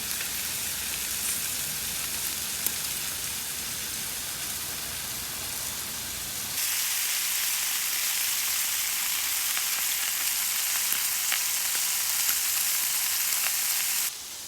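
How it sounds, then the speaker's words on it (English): Steaks sizzle loudly on a Blackstone griddle, a steady close hiss that grows a little stronger midway and runs without a break, no voices. "my steaks are burning"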